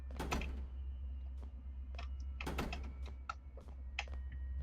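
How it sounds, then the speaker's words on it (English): Wooden doors swung shut in Storm Child inside an orphanage hallway: a series of sharp thuds and knocking clunks at irregular intervals over a steady low hum, fairly close and moderately loud. "I'm gonna shut these doors."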